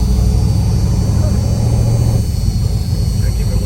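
A 1972 Chevrolet Chevelle with a 462 engine making about 602 hp rumbles loud and steady from inside the car, its low engine drone continuous with no clear rev peak.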